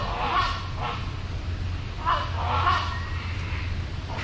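Geese honk loudly at a bird park, several calls in a loose sequence against a steady low outdoor rumble, with no talking.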